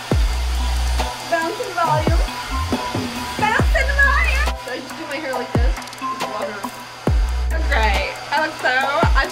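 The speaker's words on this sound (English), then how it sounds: "they used to just blow dry your hair in the opposite direction to get lots of bounce and volume" A hand-held hair dryer blowing hair, a loud steady whooshing drone that cuts in and out in several stretches, with someone talking between and over the bursts.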